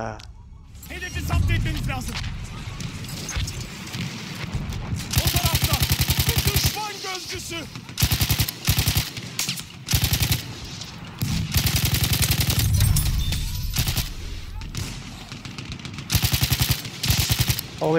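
Sustained bursts of rapid machine-gun fire in a Battlefield 1 multiplayer match, with loud, close volleys at intervals among other battle noise. A player talks between the bursts.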